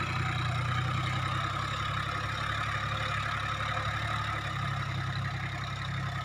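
A heavy diesel tractor engine, a Massey Ferguson 7250 or New Holland 3630 Super Plus, idles steadily nearby, a constant low rumble with no voices.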